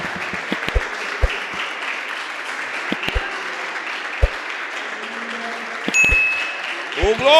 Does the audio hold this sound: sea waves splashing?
no